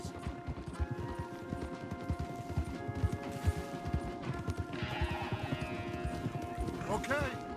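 Horse hooves clip-clopping in Red Dead Redemption 2, a steady rapid rhythm of close hoofbeats along a path, with talk and game effects over it and a brief whinny near the end.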